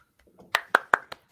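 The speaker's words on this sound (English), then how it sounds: "Quick round of applause." A small group gives a quick round of applause, several sharp claps spaced out a beat apart after some soft rustling, close and dry, with no talk over them.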